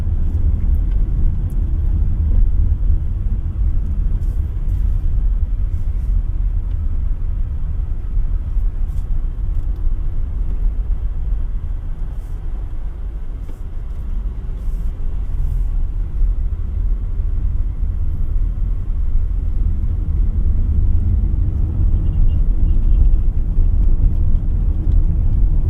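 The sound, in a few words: road noise inside a 2025 Omoda E5 electric car at higher speed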